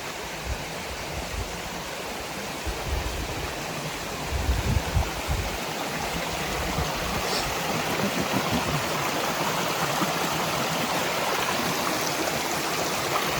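Steady rushing of a stream, water running continuously over rocks, close and fairly loud with no voices.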